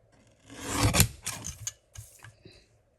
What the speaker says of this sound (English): I'm going to get my little guillotine trimmer here, and I'm just going to trim this edge just a little.